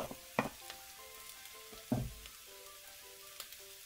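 Rice and green onion stir-frying in a pan, a low crackling sizzle with two sharp stirring scrapes, quiet and close.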